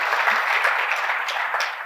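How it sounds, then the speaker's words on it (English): An audience at a business talk applauds steadily and fairly close, a dense even wash of clapping lasting the whole moment with no voices over it. "Big round of applause, thanks."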